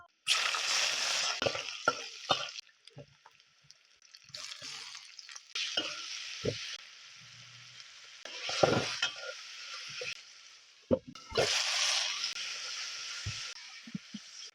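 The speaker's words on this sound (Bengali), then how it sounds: "তেল গরম হইলে আরা প্রথমে পাঁচ ফোড়ন দিন" Panch phoron spices crackling and sizzling in hot oil, heard in loud bursts of frying with stirring between them, close and with no talk.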